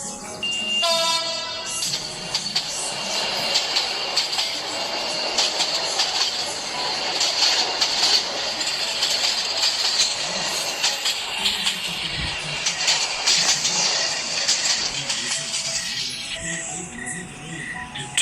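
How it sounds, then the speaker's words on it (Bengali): A train pulling into Shyamnagar station at dusk, with a dense, continuous rumble and clatter of wheels and carriages, sharp high whistle-like tones near the start, and steady loud mechanical noise throughout with no talk. "আজ ট্রেন খানিকটা দেরি হওয়াতে হুইসেল বাজিয়ে ট্রেনটি শ্যামনগর পৌঁছালো ঠিক সন্ধ্যায়"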